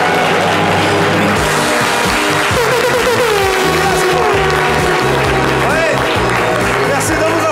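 Audience applause welcoming a journalist to a TV talk show set, loud clapping heard under strong music with sweeping tones throughout.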